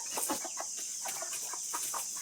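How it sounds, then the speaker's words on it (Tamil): Hen with newly hatched chicks on a farm, soft repeated clucks and peeping in short bursts over a steady high hiss, fairly close and moderately quiet, with no talking. "குஞ்சு கோழி எல்லாம் நம்ம புதுசாக குஞ்சு வச்சுருக்கோம்."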